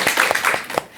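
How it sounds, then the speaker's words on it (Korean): A handful of audience members on a Korean Buddhist talk show clap in a brief, uneven burst of about five or six distinct claps, close and fairly loud, fading out quickly. "야, 이럴 때 박수 안 나면 안 되죠?"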